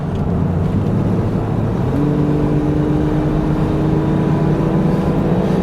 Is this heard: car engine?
yes